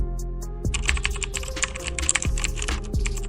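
Typing on a computer keyboard while adding a text title in video editing software: a fast, steady run of crisp key clicks, close and moderately loud, with no talking.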